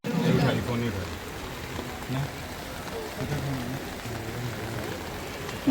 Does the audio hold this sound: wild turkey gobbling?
no